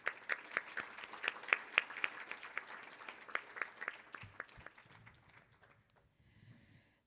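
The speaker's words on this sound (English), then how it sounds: "All right, let's give them all a round of applause." Audience applause for youth program volunteers at a devotional community gathering: a burst of hand clapping that thins and fades over several seconds, leaving a few scattered claps and quiet room noise at the end.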